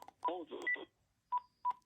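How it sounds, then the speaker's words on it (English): A Panasonic KX-PRS120 cordless phone plays its simulated call tone, a sequence of short electronic beeps and tones, with a brief bit of speech and two separate clear beeps after a pause. "Simulated call from Tyler's phone"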